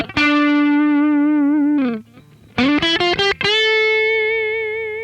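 An electric guitar played with the tremolo arm for vibrato, with distorted, effects-heavy tone: a wavering sustained note, a brief boing as the bar is grabbed, then choppy picked notes and a long wobbling held note.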